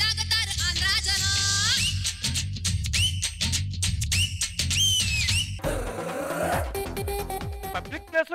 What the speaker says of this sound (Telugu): ఈల కొట్టి లాగుతారు ఆంధ్రాజనం